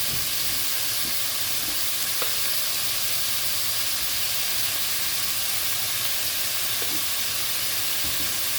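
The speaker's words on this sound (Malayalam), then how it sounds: "ഇനി നമുക്ക് ബ്രൗൺ കളറാവുന്നത് വരെ ഇതൊന്ന് വഴറ്റിയെടുക്കാം." Onions sautéing in a pan with a little salt for a Kerala-style chicken curry, a steady close sizzle and hiss running throughout with a few faint clinks of stirring, no voices.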